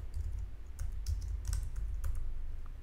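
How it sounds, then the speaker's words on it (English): Text is typed on a computer keyboard, a close run of quick, light key clicks in an uneven rhythm over a low background hum. "You can type your text."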